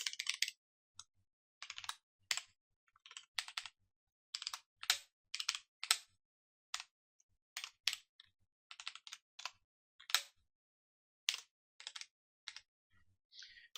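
Computer keyboard typing while writing SystemVerilog code, clusters of crisp close key presses in short irregular bursts separated by brief silent pauses, quiet room with no talking.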